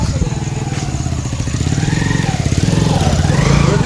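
A new Hero motorcycle's engine runs close by with a loud, steady, rapid putter, and the throttle picks up slightly toward the end.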